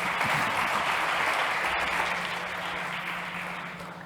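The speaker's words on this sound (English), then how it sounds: "Big applause for Julian." Audience at a health and wellbeing startup competition applauds a presenter, a steady dense wash of clapping that holds for about four seconds and slowly fades toward the end.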